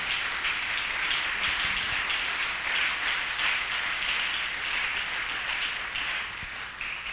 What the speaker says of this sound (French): Acclamons le roi des gloires.